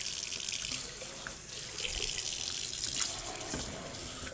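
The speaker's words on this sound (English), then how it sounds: "I do have to say this sprayer is a little more powerful than the other one." A sprayer on a newly fitted kitchen faucet in a camper runs steadily into the sink, a continuous close hiss of water lasting throughout with no talk.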